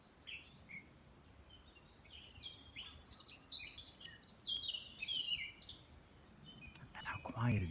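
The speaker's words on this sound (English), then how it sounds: "Just listen to the birds here." Birds in the Pyrenees mountains of France, several faint to moderate chirps and short songs scattered through quiet outdoor ambience, with a brief louder knock or rustle near the end.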